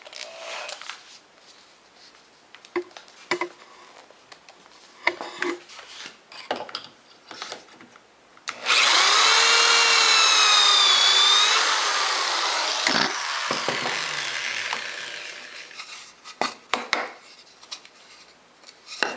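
A drill boring a pocket hole through wood with a Kreg K2 jig, a loud, steady whine lasting several seconds with the pitch sagging as the bit bites, framed by quieter handling clicks before and after.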